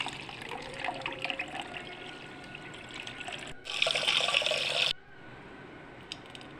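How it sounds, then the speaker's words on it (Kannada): Dal lentils being rinsed in water in a home kitchen while preparing vegetable sambar, a steady close trickle and splash of water with a louder burst of pouring partway through, then quieter sloshing. "ಮೊದಲು ಬೇಳೆಯನ್ನು ತೊಳ್ಕೊಳ್ಬೇಕಾಗ್ತದೆ."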